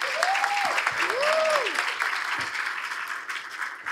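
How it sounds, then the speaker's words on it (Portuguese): Sustained applause from a crowd, dense clapping throughout, with a voice calling out over it at the start. "eu queria pedir uma salva de palmas para o Bruno"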